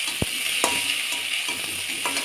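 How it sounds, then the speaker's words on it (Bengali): A spoon scrapes and knocks in a pan of pasta with fried onion, potato and egg, giving a few distinct close clacks over a steady, bright sizzle. "এবার পাস্তাটা দিয়ে দেবো, দিয়ে হালকা করে নাড়াচাড়া করে"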